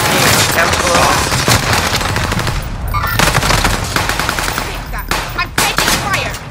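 Rapid automatic gunfire in Call of Duty: Modern Warfare, loud and close, sustained bursts with sharp single cracks throughout, with players talking over it.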